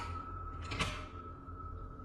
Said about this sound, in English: Somebody had just locked the back door.